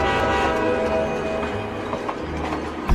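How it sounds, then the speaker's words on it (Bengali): Train rolling through dense forest: a steady, loud rail rumble with sustained horn-like tones layered over it, continuous for the whole stretch, with a sharper burst right at the end. "ট্রেনটা ঘন জঙ্গলের মাঝখান দিয়ে নিজের গন্তব্যের দিকে এগিয়ে চলছিল"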